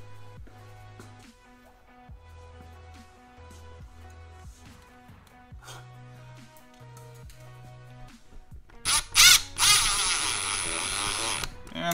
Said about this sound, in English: I'm going to go ahead and take a drill and put the first anchor in.